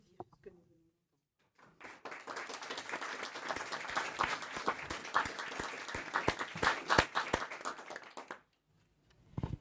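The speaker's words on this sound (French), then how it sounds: "Je crois que nous pouvons d'ores et déjà applaudir." Audience at a round-table discussion breaks into applause, sparse claps building quickly into dense, fairly close clapping that holds for several seconds before stopping abruptly.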